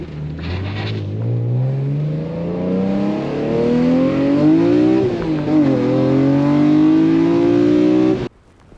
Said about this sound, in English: Under slight throttle, you can hear a whistle of all the air passing through that filter.